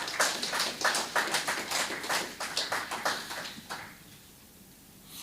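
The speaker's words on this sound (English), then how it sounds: "Give yourselves a round of applause." Audience at a Black History Month lecture clapping in a burst of applause that holds steady for a few seconds, then thins out and fades to near silence.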